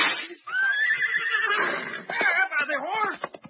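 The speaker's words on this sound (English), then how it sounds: "The horse! He's run away, the horse to the jungle!" Horse neighing in a radio drama, a long, loud, wavering whinny, close, followed by snorts and shorter cries as it bolts, with no hoofbeats clearly standing out.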